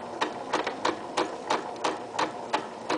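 Sewing machine stitching a pocket onto a locker caddy, forward and then back, heard as close, evenly spaced mechanical clacks, about nine short bursts in a steady rhythm.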